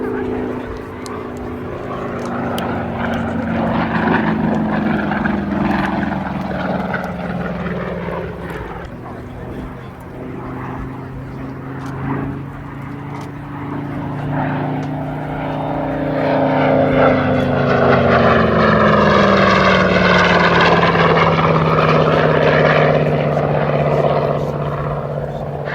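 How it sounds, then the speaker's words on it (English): A Curtiss H-75 propeller fighter makes a flying pass at the Duxford airshow, its engine drone swelling and shifting pitch as it sweeps by, loud and steady throughout with a rising roar near the end. "Final pass for the H-75 coming up."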